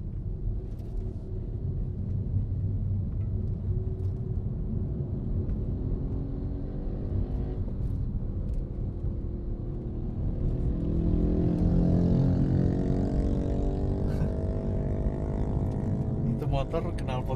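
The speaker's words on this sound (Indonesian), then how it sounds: "Derung suara jalannya ini parah banget sih, ini parah banget" Steady road rumble and engine drone fill the cabin of a Honda Civic Turbo while driving, loud and continuous throughout, with a swelling tone partway through. A voice talks over it.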